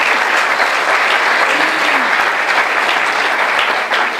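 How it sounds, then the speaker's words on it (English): Steady, enthusiastic applause from an audience, continuous clapping filling the whole moment without pause. "a big round of applause here"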